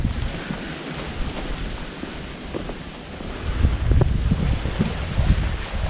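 Wind blows at a seaside spot by an abandoned resort, buffeting the microphone in a steady rushing gust that swells louder toward the end.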